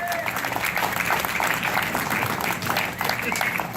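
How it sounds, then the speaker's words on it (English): An audience at a political gathering gives the county sheriff another round of applause, a continuous, even patter of clapping throughout with faint voices blended in. "One more round of applause for our sheriff, please."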